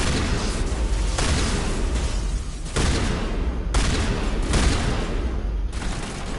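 Shotgun blasts and explosions in Mass Effect come as a dense, loud barrage of booming shots, with several sharp bursts spaced through a continuous roar of combat.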